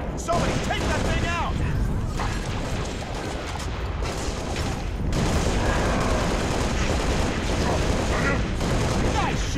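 Halo: Reach battle gunfire, dense and continuous, with rattling bursts and distant booms layered over one another, loud throughout, as voices call out over the combat.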